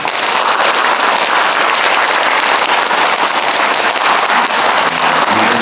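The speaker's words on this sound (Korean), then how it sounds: "우리 수고하신 분들과 서로서로를 위해서 우리 다 같이 감사의 박수 하겠습니다." A church congregation at an elevator dedication service claps together in thanks, a loud, dense and continuous burst of applause that fills the room for several seconds.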